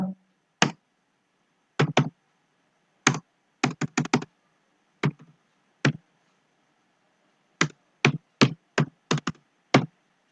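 Keys on a computer keyboard clack as values are typed, in short bursts of separate taps with pauses between, close and crisp against a quiet room.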